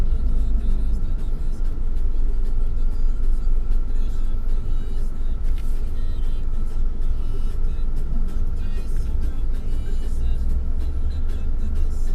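A car drives through the streets of Paramaribo, Suriname, near the main waterfront, giving a steady low engine rumble and road noise that runs without a break, with no clear talk over it.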